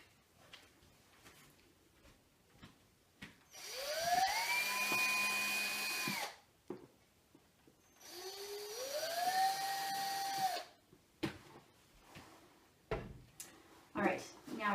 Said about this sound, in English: we're going to go ahead and drill 2 holes in our decoy